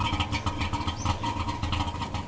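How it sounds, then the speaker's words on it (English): A car engine in the driving game The Long Drive runs with a steady, pulsing mid-pitched rumble, close and continuous with no talk over it. "Engine sounds like the Chef Boyardee commercial without music"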